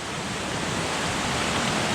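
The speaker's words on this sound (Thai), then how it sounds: "มีแม่น้ำลำธารไหลผ่านตรงนี้" A mountain stream rushes along a hiking trail, giving a dense, steady wash of flowing water, close and constant with no breaks.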